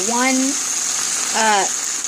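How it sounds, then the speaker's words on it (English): Rehydrated hash browns sizzle steadily in a pan, a loud continuous frying hiss with someone talking over it twice. "Hopefully you can hear me over the sound of that frying."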